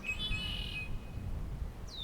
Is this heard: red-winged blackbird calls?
yes